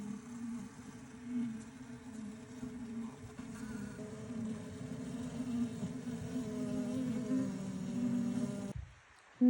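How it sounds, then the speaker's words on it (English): A honeybee swarm building comb inside a hexagonal hive, heard up close as a continuous low, even buzzing hum with faint crinkling underneath, before a sudden bump at the end. "you can hear crunching and crinkling of comb building"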